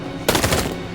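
A short, loud burst of rapid automatic gunfire in the video game Detroit: Become Human, lasting under a second.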